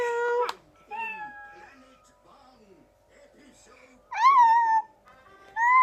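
A person imitates a cat meowing with short, high, whiny meow calls near the start, in the middle and at the end. Quieter speech fills the gaps between the calls.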